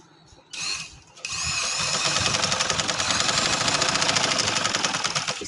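An electric sewing machine starts up and then runs steadily, a fast whirring, rattling stitch close by as it sews a seam on a designer suit. A brief burst comes first, then the continuous run, and no one speaks.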